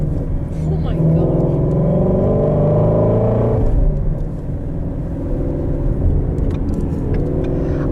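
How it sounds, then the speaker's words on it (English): A 2018 Shelby GT350 Mustang engine roars loudly and continuously under acceleration, a deep rumble heard from inside the car, with people talking over it. "I feel like this car is loud, but it sounds so good"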